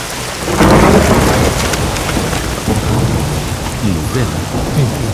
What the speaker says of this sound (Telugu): దేవుడా, వర్షం ఏంటి ఇలా కురుస్తోంది?